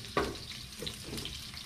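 Dilis (small dried anchovies) fry in oil with a soft, continuous sizzle and a few light scraping stirs, close by and moderately quiet.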